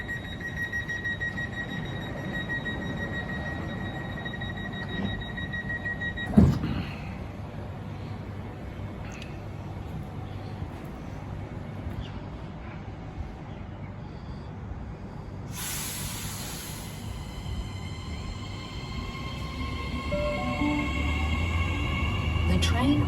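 A NIF train departing the platform at Hornsby Station, with a low continuous rumble and hiss of the moving train and a sharp clunk partway through. Public-address speech plays over the noise, and a brighter high-pitched tone comes in near the end.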